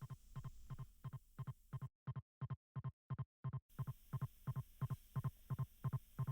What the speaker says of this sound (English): listening to my baby's heartbeat.